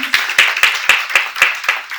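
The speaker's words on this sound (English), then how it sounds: "Let's give her a round of applause as she comes up, please." A small audience at a women's status event claps for a speaker coming up, a close rhythmic run of about eight distinct hand claps at a steady pace.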